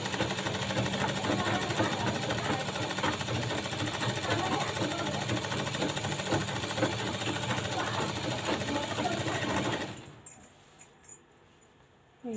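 A sewing machine runs fast and steadily, top-stitching a lining onto a garment sleeve, a loud close whirring chatter that stops abruptly near the end, followed by a few faint handling clicks.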